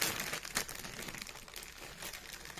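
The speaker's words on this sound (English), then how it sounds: "So I'm just going to take those out of the bag." Plastic bags crinkling and crumpling up close as parts of a Masters of the Universe Origins Wind Raider toy are pulled out, in a string of sharp rustling bursts.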